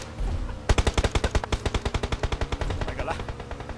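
Automatic gunfire in the battle royale game PUBG Lite: a loud, close burst of about twenty rapid shots in an even rhythm, with faint game noise before and after.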